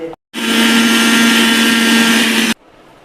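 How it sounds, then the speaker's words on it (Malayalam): Mixer grinder grinding herbs with black cumin for homemade hair oil, a loud steady motor whine with a brief start-stop at the beginning, running continuously for about two seconds before cutting off abruptly. "നമ്മളിതൊക്കെ മിക്സിയിലിട്ടിട്ട് നന്നായി അരച്ചെടുക്കണം"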